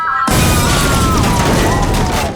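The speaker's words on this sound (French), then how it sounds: "si j'appuie juste là, je peux faire une explosion" A loud explosion sound effect, triggered by pressing a button in a studio, bursts in abruptly and roars as a dense, sustained crackling rumble with a faint tonal whine over it.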